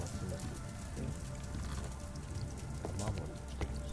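Steady rain pattering and dripping as a roof leaks in a Sherlock Holmes video game, a continuous wash of drops with brief sharper splashes under a faint background murmur.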